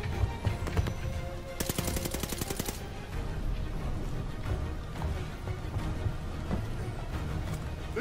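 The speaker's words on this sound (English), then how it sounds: "Novak, shoot the driver." Gunfire in the video game Call of Duty Vanguard: rapid automatic bursts crackle loudly and continuously, with a dense rattling burst partway through over a constant roar of battle noise.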